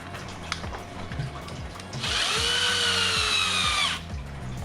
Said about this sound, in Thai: ยึดติดด้วยสกรูนะฮะ เป็นเกลียวปล่อยนะครับ